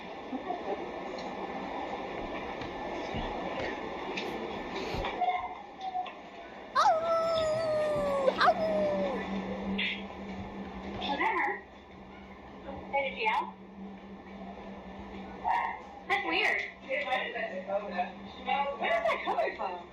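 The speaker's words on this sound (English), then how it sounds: "A dog is heard crying somewhere in this clinic" A dog whimpers and howls with a wavering, drawn-out cry somewhere inside a veterinary clinic in a video game, rising over a low hum while a person talks before and after.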